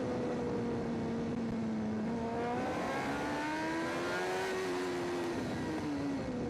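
A high-revving racing motorcycle engine at the Macau Grand Prix drones steadily, its pitch dipping and shifting as it shuts off revs for bends, then climbing again; loud and continuous with no talk.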